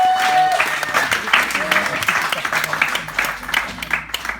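A church congregation applauding during a worship service, steady sustained clapping from many hands filling the room, with a voice speaking over it throughout.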